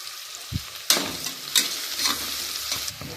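Onions frying in a pan for tomato bath, a steady close sizzle broken by several sharp scraping stirs of the spatula across the pan over about three seconds.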